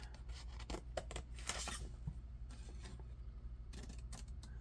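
Scissors snipping through gift wrap paper, a close run of sharp crisp cuts in short bursts with pauses between, quiet overall and with no speech.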